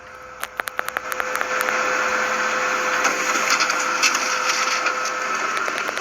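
The rear roller of a Kyocera M3660idn laser printer, freshly lubricated, is spun by hand: a few quick clicks and ticks give way to a steady whirring, rattling mechanical rush that runs on close up.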